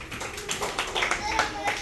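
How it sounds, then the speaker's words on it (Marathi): Children in a classroom clap together for a classmate, a quick burst of close, mixed handclaps blending with voices talking over them. "जरा तिच्यासाठी एकदा जोरदार टाळ्या वाजवा."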